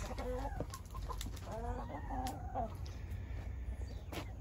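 Hens sitting on nests clucking on a farm, several soft broken clucks and short calls overlapping at close range, with other fowl faintly in the background.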